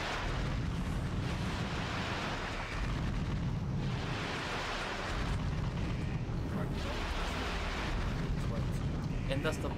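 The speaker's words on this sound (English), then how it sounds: "And thus the bomb is released." A bomb explodes in the Ratchet & Clank video game, heard as sustained loud rumbling blasts and bursts that fill the whole stretch, with a voice speaking over the din.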